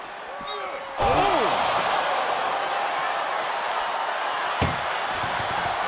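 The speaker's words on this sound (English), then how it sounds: "Pushing with every fiber of their being to slam the door." A heavy metallic ambulance door slam in WWE 2K25 rings out, followed by a steady noisy background and a second, sharper bang a few seconds later.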